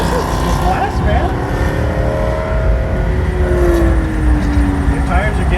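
A Tesla laps a race track at Streets of Willow, giving a sustained whine and rushing road noise with rising and falling tones as it accelerates, while people talk over it.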